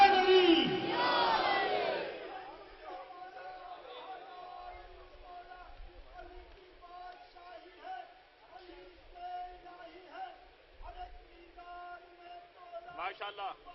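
Crowd at a religious celebration gathering in Lucknow responding with a loud collective shout, then quieter scattered voices and murmuring continue in the background for the rest.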